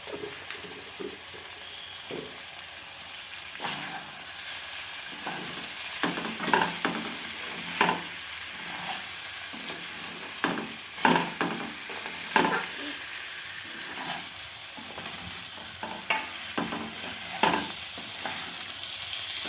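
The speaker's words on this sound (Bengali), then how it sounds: "চালটা আমার নাড়া হয়ে গেছে" Rice stirred in a frying pan for chicken rice, with repeated scraping strokes of the spatula over a soft steady sizzle, close and at a moderate level, no talking.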